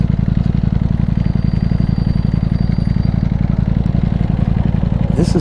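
A Ducati V4 Panigale motorcycle engine runs at a steady, loud, rapid-firing idle up close, a dense continuous rumble with a faint sharper noise near the end.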